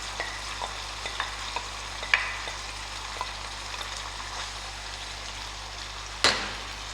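Blanched tomatoes stirred into a sauce in a pan over low heat, a faint steady sizzle with light scraping strokes and a couple of sharper spoon taps against the metal.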